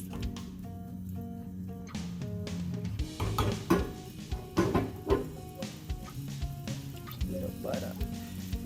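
Butter melting in a pan for queen cake batter gives a soft, steady sizzle, with close clinks and scrapes of utensils against the pan and a few louder knocks partway through.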